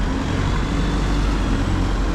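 A Thames Valley single-deck bus on route 128 pulls in on a Reading town centre street, its steady diesel engine rumble close and continuous amid low road noise.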